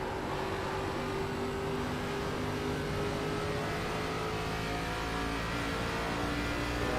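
Race cars in an iRacing ARCA league event at Iowa Speedway drone past with steady engine whine and a constant roar. The sound stays loud and even with no pauses.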